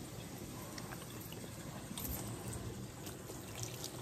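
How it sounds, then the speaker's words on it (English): Running water rinses soap from a French bulldog during a bath, a steady close spray and patter that continues evenly without speech. "you just keep rinsing until you don't feel any more soap"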